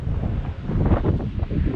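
Wind blows hard across an outdoor kite-flying spot in a neighborhood, buffeting the microphone with a steady, loud rumbling roar and no voices.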